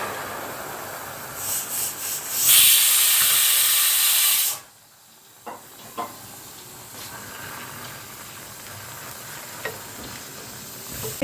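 Food sizzles in a new ceramic frying pan with a loud hiss that flares for about two seconds and then cuts off, leaving a quiet stretch broken by a few scattered stirring scrapes and taps.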